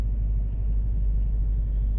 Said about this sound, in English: So I'm just on the final road test now, and this vehicle is ready to go back to the customer.